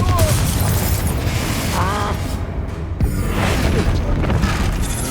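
Fiery Confringo spell blast in Hogwarts Legacy, a loud booming burst amid dense combat noise with a sharp impact partway through and brief character shouts.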